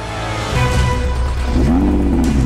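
A Nissan GT-R with 570 horsepower revs its engine in launch control, giving loud, close, rising and falling engine sweeps with a deep rumble and no talking.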